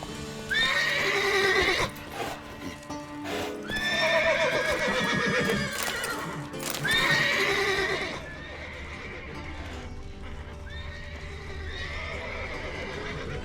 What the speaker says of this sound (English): Stupid horses.